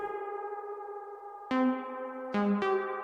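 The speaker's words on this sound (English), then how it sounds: "Suddenly we're in a reverb." Eurorack modular synthesizer tones ring out with long reverberant tails, three sharp plucked notes striking in sequence and each decaying smoothly into a spacious wash.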